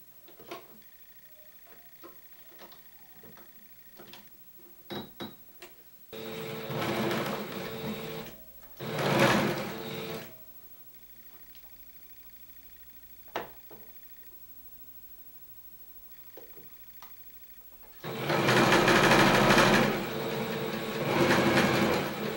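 A sewing machine stitches the shoulder seams joining front and back of a flared jumpsuit with straps, running in three bursts: a longer run, a short one, then a long steady stretch, with faint handling clicks between.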